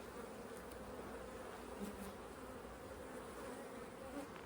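Honey bees hum around an opened hive in a continuous, soft, even buzz with no voices over it.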